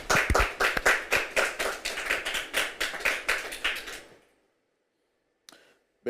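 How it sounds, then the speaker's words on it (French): Live audience clapping at a church gathering, a dense burst of hand claps lasting about four seconds then dying away, followed by a single faint clap and another starting at the end. "Public, on peut acclamer le Seigneur pour ça, s'il vous plaît."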